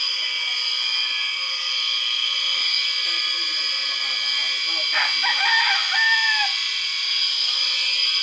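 Rooster crowing among chickens at a Marinduque farmyard, with a drawn-out crow rising mid-clip over a steady high background buzz, with faint clucking underneath.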